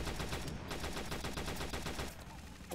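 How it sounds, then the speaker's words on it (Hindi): An automatic gun in a World War 2 video game fires a steady, rapid stream of shots, evenly spaced throughout and fairly quiet, easing slightly toward the end. "और अपने आप ऑटोमेटिक गन चलेगी"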